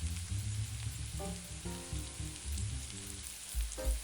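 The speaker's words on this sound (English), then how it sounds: "Continue occasionally to stir the garlic in with the tomatoes, till both are tender." Coarsely chopped garlic and tomatoes frying together in a pan, a steady close sizzle and crackle with occasional stirring scrapes, no voices.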